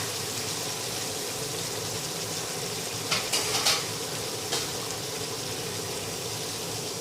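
Pork pieces cook in a covered pan over medium heat for a Thai panang curry: a steady, even sizzle and bubbling hiss throughout, with a few brief clinks or taps midway.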